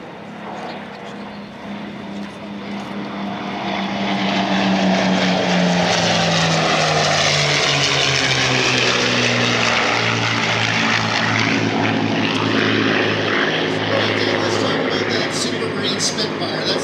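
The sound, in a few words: WWII propeller warbird formation flyby: A-1 Skyraider, P-51D Mustang, Spitfire, Bearcat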